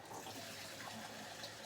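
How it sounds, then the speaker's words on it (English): Water running through a coffee maker being cycled, a faint, steady rushing hiss with no breaks across the short stretch. "Cycle more water through the coffee maker."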